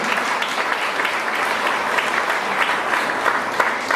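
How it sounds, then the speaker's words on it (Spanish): A church congregation claps together in an offering of applause during a Spanish-language service, a steady, full round of clapping with a few sharper claps near the end. "Denle una ofrenda de palmas porque yo estoy por el amén."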